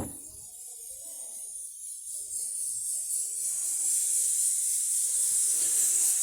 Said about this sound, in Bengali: এদিকে আমি কতগুলো আলু সিদ্ধ করতে দিয়েছি, আওয়াজ করে যাচ্ছে।